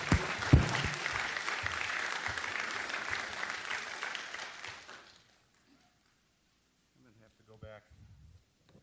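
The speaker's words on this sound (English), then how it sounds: "and a round of applause for Dr. Bacon" Audience applause at a medical lecture for a visiting doctor, dense clapping from a seated crowd lasting about five seconds before fading out, followed by a few quiet spoken words.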